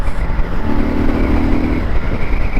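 A Triumph Scrambler 1200 motorcycle accelerates in fourth gear with a loud, steady engine drone and a rising tone in the middle, heard alone and close.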